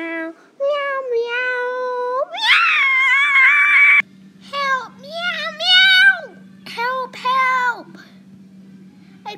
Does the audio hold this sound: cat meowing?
yes